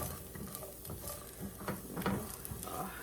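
Peppers and onions sauté in a pan with a soft, continuous sizzle and occasional light scraping and stirring clicks, close up and without talk.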